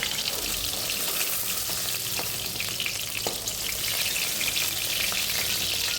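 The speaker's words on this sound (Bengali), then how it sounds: "এবার এই তেলের মধ্যে আমি কাঁচকলাটা ভেজে নেবো" Green banana (kanchkola) frying in hot oil, a steady close sizzle with crackling spits throughout and a couple of faint utensil taps.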